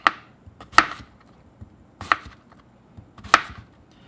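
A knife chopping a cucumber on a cutting board, four sharp separate cuts spaced about a second apart, close and clear with no talking.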